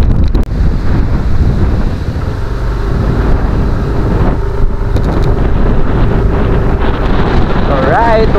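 Strong wind buffets the microphone with a loud, continuous roar, rushing water faintly beneath it and no talk.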